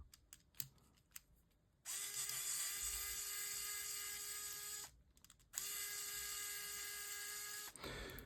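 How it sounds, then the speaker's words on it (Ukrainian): A small motorized tool whirs in two sustained runs of about three seconds each, with faint handling clicks before and between them, near and alone while a cable clamp on a multimeter test probe is unscrewed. "Давайте відразу відкручу цей затискач кабелю, фіксатор."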